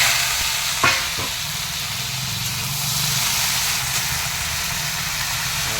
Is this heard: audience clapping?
no